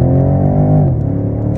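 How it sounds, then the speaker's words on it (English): A 2023 BMW X6 M50i launches hard off the line with a little wheel spin; a loud, close engine drone holds steady, then its pitch dips and roughens briefly near the end. "we had a little wheel spin off the line"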